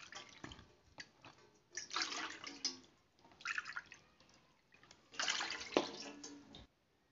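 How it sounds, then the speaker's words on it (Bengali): Water is poured from a measuring bowl into a cooking pot three times while making vapa kadam phul pitha, with three separate splashing gushes, each a second or so long, close by and moderately loud with quiet pauses between. "এবার ওই পাত্রতে এই বাটি মেপে 3 বাটি জল দেব।"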